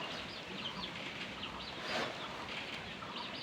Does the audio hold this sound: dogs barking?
no